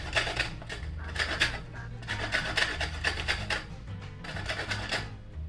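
Fresh coconut flesh being grated off the shell by hand, a steady run of close, rhythmic rasping strokes with no talk.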